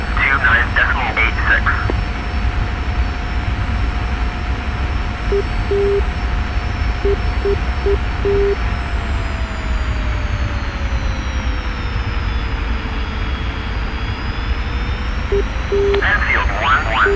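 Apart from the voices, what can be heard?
F-86F jet engine during takeoff in DCS flight simulator video game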